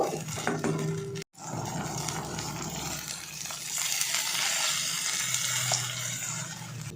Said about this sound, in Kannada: ಈಗ ರಸಮ್ಗೆ ಎಷ್ಟು ನೀರು ಬೇಕೋ ಅಷ್ಟು ನೀರು ಕೂಡ